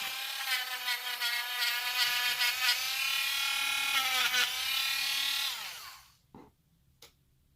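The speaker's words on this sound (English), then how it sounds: "if you're using a Dremel, just remember you're not really trying to remove a bunch of material" A high-pitched Dremel rotary tool whines steadily while polishing Glock 17 Gen 5 trigger parts, its pitch wavering slightly under load before it spins down and stops, followed by a couple of faint clicks.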